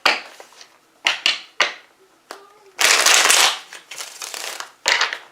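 Several quick bursts of cards being shuffled and riffled, loud and close, separated by short pauses, ending in a longer riffle.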